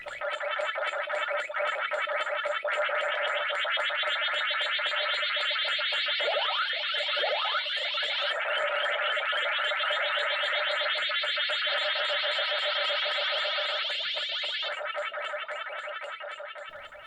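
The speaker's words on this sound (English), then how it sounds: "here's Miss Pac-Man for the Sega Genesis, and it actually sounds okay as long as there's no music playing" Ms. Pac-Man for the Sega Genesis running on an emulator, with a steady, loud warbling chomp and siren loop of game effects that plays nonstop with no music and no talking.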